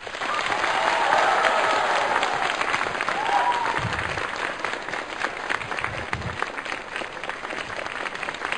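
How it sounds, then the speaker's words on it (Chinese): A studio audience applauds steadily for several seconds to welcome guests onto a television lecture stage, a loud, dense, continuous clapping that stays close, with brief voices underneath. "来掌声有请他们"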